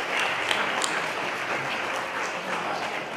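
Audience applause for a guest at the Apulia Web Fest awards ceremony in Corato, a steady full crowd of clapping with a few sharper nearby claps.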